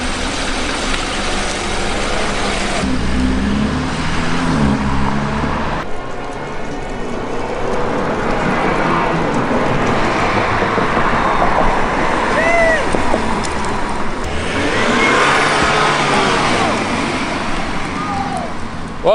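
A BMW F30 engine idles while warming up, producing a steady low hum with slight variations and traffic-like background noise throughout.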